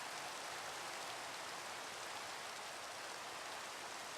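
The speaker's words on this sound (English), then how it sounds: "oh it's raining my gosh toggle downpour" Heavy rain pours down in a Minecraft game in a dense, continuous hiss, loud and unbroken, with no voices.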